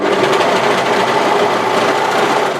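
A sewing machine runs steadily, stitching the seam of a weekend skirt with cargo or side pockets; a loud, continuous whir with even rhythm, close up and alone, no talk.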